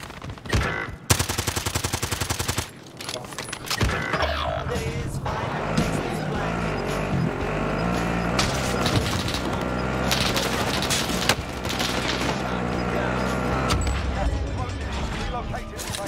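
Rapid automatic gunfire and scattered shots ring out in Call of Duty on Rebirth Island, loud and near, in dense bursts with a steady backdrop of game sounds, while players talk over it.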